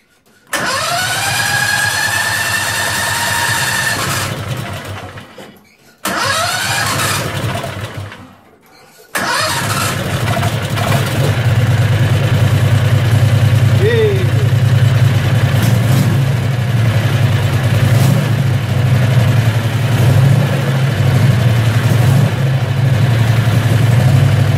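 A Predator 670cc engine, fed through a primer bulb with the gas tank below the carb on a pulse pump, cranks and catches twice and cuts out, then starts and settles into a steady, loud, close idle.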